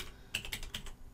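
Keys on a computer keyboard are struck in a quick burst of about five crisp clicks, close and fairly quiet, on a Windows 11 computer.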